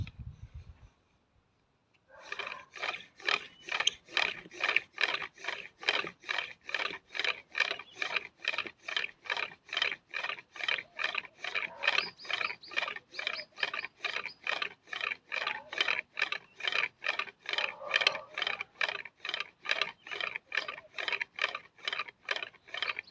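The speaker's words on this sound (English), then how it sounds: "Also, the pump arm needs to be perpendicular to the spindle stick." A wooden pump drill spins a spindle stick for friction fire, giving a steady, rapid rhythmic clacking and whirring of wood on wood that begins after a brief quiet and keeps going without pause, close and fairly loud.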